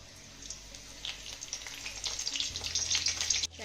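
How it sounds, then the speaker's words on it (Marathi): Cumin seeds and curry leaves sizzle in hot oil in a wok, a crackling hiss that starts faint and builds steadily louder toward the end, heard close and alone. "जिरे आपलं चांगलं फुललं की यामध्ये ना कढीपत्त्याची पानं घालूया"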